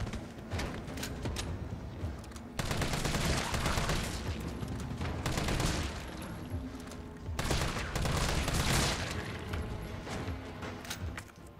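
Gunfire in Resident Evil 3 Remake, rapid sustained bursts of automatic shots in three long volleys separated by short gaps, fairly quiet and reverberant throughout.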